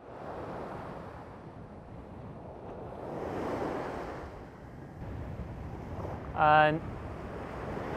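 Surf washing onto a beach in Shetland on a calm summer day, a steady soft wash of waves under light wind, with a brief louder sound near the end and a person speaking faintly.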